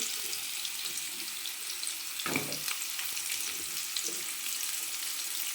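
Light frying of potato, papaya and pointed gourd pieces in a pan, a steady soft sizzle throughout with a brief louder stir or clatter midway and a fainter one near the end, no talk.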